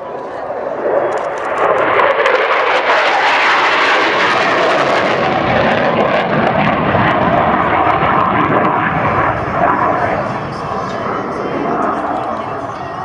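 An Airbus Defence aircraft flies at the Radom Air Show 2015, its engines roaring loudly and steadily as it passes, with a broad rush of noise holding for several seconds before easing slightly.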